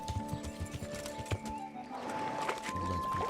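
Horse hooves clip-clopping in the medieval Bohemian world of Kingdom Come: Deliverance, a fairly close, uneven trot with steady game ambience and a brief whinny-like tone, no talk.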